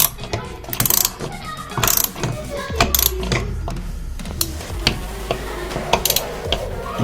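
A tool tightens screws while a Lambretta 125 LD scooter engine is being reassembled, producing close, crisp ratcheting clicks in uneven spurts with metallic knocks between them.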